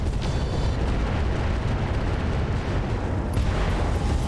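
A Rakshasa mech is destroyed in the RogueTech battle game, heard as a dense, sustained rumbling barrage of explosions and blasts, loud and continuous throughout with a sharper burst near the end.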